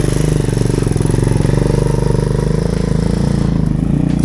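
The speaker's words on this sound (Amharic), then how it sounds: "ይሄ ሞተሩ ራሱ ጭራሽ እኮ ቁልቁለት ላይ ነው።" A motorcycle engine runs steadily and close by on a downhill slope during a riding lesson, with a loud, even, rapid thumping pulse that holds throughout.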